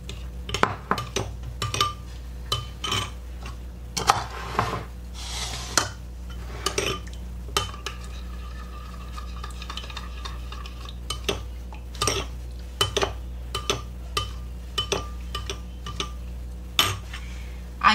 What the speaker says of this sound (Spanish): Mezclamos muy bien hasta que el azúcar esté completamente disuelto.